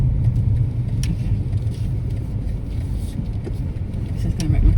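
A car bumping slowly along a rough, potholed track, with a steady low rumble and scattered knocks and rattles from the body throughout, heard from inside the vehicle.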